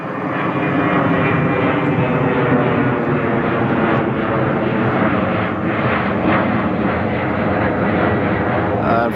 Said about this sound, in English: let's wait for the plane to go by